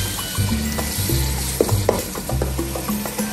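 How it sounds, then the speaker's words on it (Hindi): Tomatoes frying in a pan for chicken pulao, a steady sizzle over high heat with scattered stirring scrapes and clicks of a utensil throughout, with no talking. "ये टमाटर पूरी तरह भुन चुके हैं।"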